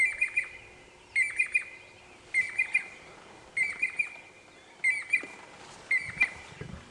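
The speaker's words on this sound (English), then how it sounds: "It sounds like we've either got a Jacobin or a Levalence cuckoo flying" A Jacobin or Levaillant's cuckoo calls on a sunrise safari drive, repeating a clear, high chirping phrase about every 1.2 seconds. The bird sounds fairly close and is heard alone, with no talking.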